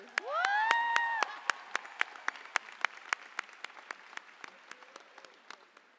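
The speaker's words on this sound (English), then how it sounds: "Have another round of applause for our speakers." Graduation crowd at a high school ceremony claps in a scattered, fading way, with sharp individual hand claps spaced out over several seconds and a brief high whistle-like cheer early on, moderately distant.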